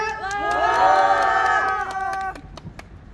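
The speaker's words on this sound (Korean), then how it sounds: "힘찬 함성과 박수로 모시겠습니다" A crowd at a union press conference gives a loud, sustained group shout of cheering that holds for about two seconds, then fades into scattered claps and a few calls.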